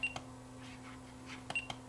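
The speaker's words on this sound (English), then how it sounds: "So now it'll beep when you press buttons." Touch tone button beeps from a Tivdio HR 11W camping and emergency radio, two short pairs of quiet electronic beeps near the start and end, with a steady low hum underneath.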